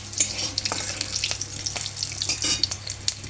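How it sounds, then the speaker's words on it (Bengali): Green chili and five-spice (panch phoron) frying in hot oil in a wok, a steady high sizzle with short scraping stir strokes throughout, close and fairly loud, no voices. "এখন দিয়ে দেবো কড়াইয়ে একটা কাঁচা লঙ্কা আর একটু পাঁচফোড়ন দিয়ে একটু নাড়াচাড়া করে নিয়ে"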